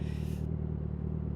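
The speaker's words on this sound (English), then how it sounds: "I wanted to bring out the exhaust sound of the bike" A motorcycle exhaust gives a steady, low, throaty drone at moderate level, with no voices over it.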